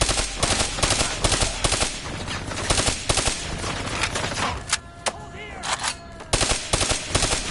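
Rapid bursts of automatic turret gunfire in Call of Duty Black Ops 3, loud repeated rattling volleys with short pauses and a few sharper single shots, mixed with game effects and voices.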